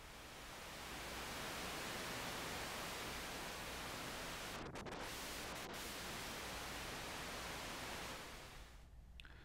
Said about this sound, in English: tape noise